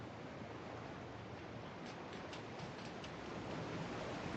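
Waterfall in the video game Lego Fortnite Odyssey, a steady broadband rush of falling water that stays even and continuous throughout, with faint ticking details layered on top.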